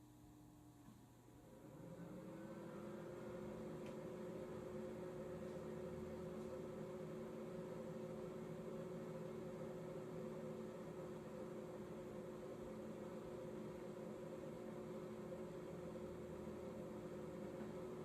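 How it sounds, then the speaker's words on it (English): A microwave oven runs inside a 2019 Thor ACE 30.2 RV, switching on after a brief quiet moment and then holding a steady, loud electrical hum with a persistent drone that continues unchanged to the end. "Microwave is on."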